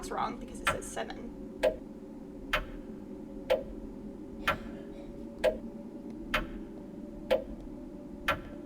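Clock ticking in the video game Homebody, a steady run of sharp ticks roughly one per second over a low ambient hum, clear and close.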